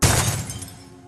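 A car crash with glass shattering: a sudden loud smash bursts out at the start, then broken glass rattles and rings as it fades over about a second.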